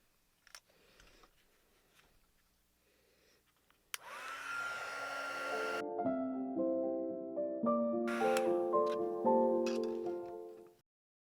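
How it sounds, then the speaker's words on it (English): A heat gun blows hot air over embossing powder in a single continuous whooshing drone lasting several seconds, close and steady, with a tonal whine rising as it runs, after a few faint clicks and handling sounds. "I'm going to hit it with my heat gun just to help it dry"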